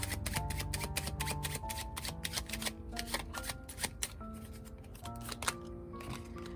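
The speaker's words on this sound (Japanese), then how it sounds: "反対向きにシャッフルしてる" Playing cards shuffled over and over in a tarot or oracle reading, dense riffling and sliding card noise running continuously at close range, with faint background tones underneath.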